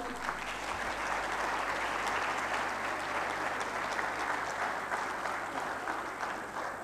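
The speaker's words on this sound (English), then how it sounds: "can you put your hands together and clap your hands now?" Steady, sustained clapping from a conference audience at the 2nd Lahore Management & HRD Summit, a dense even wash of many hands at moderate distance with no voices over it.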